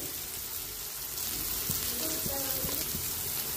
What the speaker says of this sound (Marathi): आता आपण टमाटे टाकून घेऊ, थोडीशी कोथिंबीर टाकून घेऊया